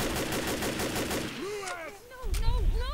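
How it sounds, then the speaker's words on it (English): A rapid burst of gunfire aimed at a propane tank crackles in Left 4 Dead's Blood Harvest campaign, followed by quieter game sounds and swooping tones. "Hang on, back up and shoot the prop tank."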